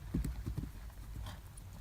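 A horse's hooves thud in a canter between jumps, a few soft rhythmic beats close at first, then fading under low rumbling background noise.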